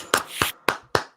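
Four loud, sharp hand claps from a group clapping together in unison, spaced at an uneven beat, with no talking.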